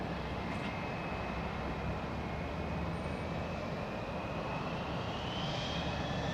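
A PIA airliner departing Gatwick roars steadily at a distance, a broad constant jet noise with a faint high whine, fairly quiet and with no voices.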